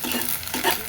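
An egg frying in a pan in a home kitchen gives a short, close sizzle with a couple of scraping stirs, and no voices.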